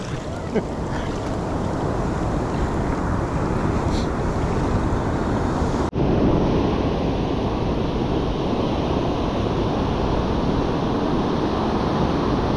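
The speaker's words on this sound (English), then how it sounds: "So I'm just trying to time the waves a little bit." Surf breaking along a San Diego beach during surf fishing, a steady broad wash of waves with wind buffeting the microphone, continuous and fairly loud with no talk.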